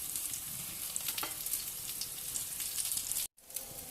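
An aloo paratha fries in oil on a pan with a close, continuous sizzling hiss and faint crackles, briefly cutting to silence near the end before the sizzle resumes.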